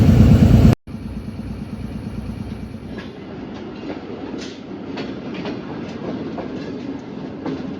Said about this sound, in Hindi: green flag and train move